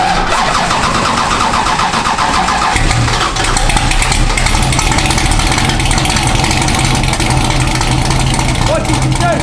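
A Porsche 911SC with a swapped LS engine cranks and fires up, then settles into a loud, rough, steady idle close by, with voices talking over it.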